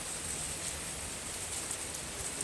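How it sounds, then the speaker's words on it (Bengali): A soft, even hiss of heavy rain falls continuously at a distance in Shyamnagar, fairly quiet and steady with no voices. "দেখতে পাচ্ছ কত বৃষ্টি হচ্ছে দেখো"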